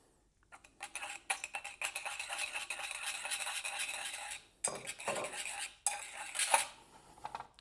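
Sugar and grapeseed oil are whisked briskly in a bowl into an emulsion, giving a rapid rhythmic clatter of utensil against the bowl. Two short pauses break the close, clear sound, and no one talks.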